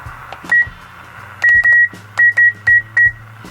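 A Realistic TRC-481 CB radio, grimy and under repair, gives a string of short electronic beeps, one, then a quick pair and several more evenly spaced, close and clear over a faint low hum.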